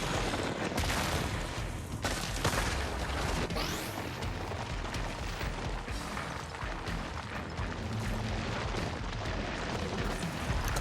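A Concrete barrage ability in Deadlock unleashes a dense, sustained pounding of booming impacts and blasts, loud and continuous throughout with sharp hits standing out from the rumbling roar.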